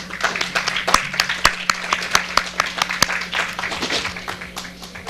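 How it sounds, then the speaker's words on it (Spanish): Audience at a symposium on criminal justice reform breaks into applause, clear individual claps standing out over a steady patter, fairly close and ending as it thins out. "Un aplauso, por favor."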